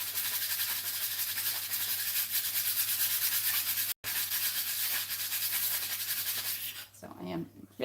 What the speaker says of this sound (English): So I am really quickly sanding these because if I don't sand them real fast while they're down to the tile